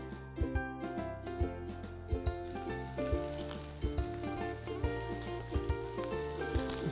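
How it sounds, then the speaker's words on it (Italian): Prawns browning in a pan give a steady sizzle under loud rhythmic background music with a regular beat throughout. "Facciamo rosolare bene i nostri gamberetti."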